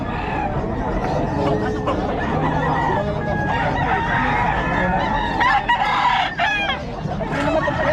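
Roosters and other fowl crow and cluck repeatedly at a busy Bocaue market, loud and near amid a constant hubbub of people talking.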